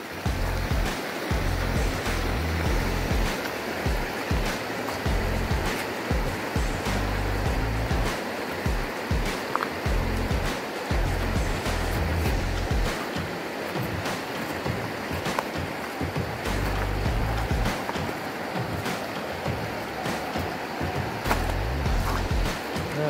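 A creek or small river at Crazy Creek rushes steadily, a dense continuous wash of flowing water close by with constant low rumbling and no talk.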